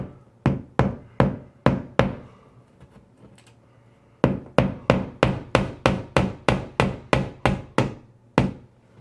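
Hammer driving a Hillman picture-hanging nail into drywall: a burst of five sharp taps, a short pause, then a faster run of about a dozen crisp, close blows.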